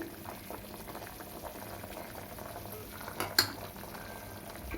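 Potato pieces for french fries boil in a pot of water on the stove, a steady close bubbling that runs throughout, with one brief utensil clink near the end.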